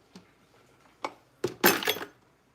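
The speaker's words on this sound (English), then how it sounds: "I just broke some glass" Glass breaking during work on a Day of the Dead altar: a few faint clinks, then a sharp, loud crash with a brief scattering rattle close by, and no talking.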